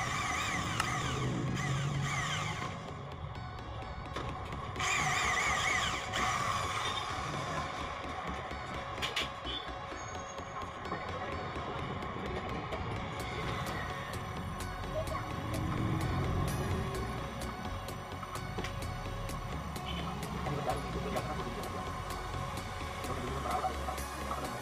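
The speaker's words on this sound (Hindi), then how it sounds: "तो चलिए दोस्तों, फटाफट हम स्क्रू लगाते हैं।" Screws being driven into an aluminium domal window shutter section, intermittent whirring and clicking bursts from a power tool with handling clatter and shuffling over about twenty-five seconds, fairly close, no talking.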